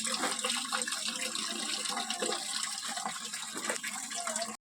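Water gushes steadily from a tap on a household water tank, a close, continuous splashing rush of liquid with no voices.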